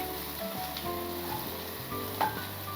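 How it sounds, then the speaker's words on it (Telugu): Crab fry sizzles in a pan with fish fry masala and coriander, a steady close crackle broken by soft stirring scrapes over a few seconds, with no voices. "కొంచెం ఫిష్ ఫ్రై మసాలా, కొంచెం కొత్తిమీర వేసి మంచిగా కలుపుకొని ఒక 5 నిమిషాలు అట్లా మగ్గబెట్టుకొని"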